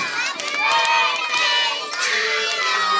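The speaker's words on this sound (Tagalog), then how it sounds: "So guys, everybody shout Happy Birthday!" Crowd of children at a birthday party shouting together, loud and continuous, with overlapping excited voices and a brief dip partway through.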